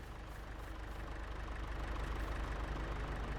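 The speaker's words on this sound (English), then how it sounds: "Trying out the John Deere 710 here on this planter." John Deere 710 tractor engine idling in Farming Simulator 22 with a corn planter attached, a steady low rumbling drone with a faint rhythmic knock, close and even throughout.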